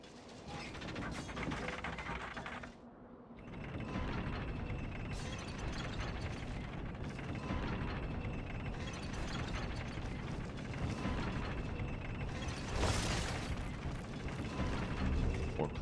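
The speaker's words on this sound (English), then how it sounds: "we're going to crank up the lift" A lift being cranked up in Demon's Souls, with steady mechanical ratcheting and grinding gears that creak on and on for many seconds, close and fairly loud, with a brief dip early on.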